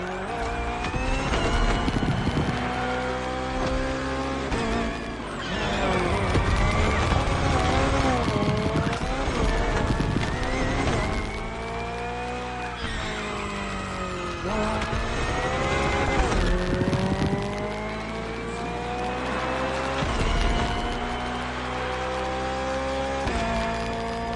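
BMW Hybrid V8 race car engine in the racing video game The Crew Motorfest, roaring loud and close through the whole run, revving up and down through gear changes with brief tire squeals.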